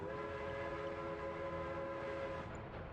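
A train runs in a city-building video game, a steady tonal hum with a continuous rumble throughout, fairly loud, with no talk.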